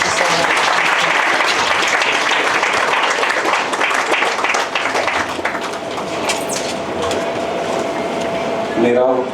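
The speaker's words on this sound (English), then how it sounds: "Please give a big round of applause" Audience at a Bhagavad Gita seminar breaking into loud, dense applause that fills the opening seconds, then gradually thins and fades as the clapping dies down.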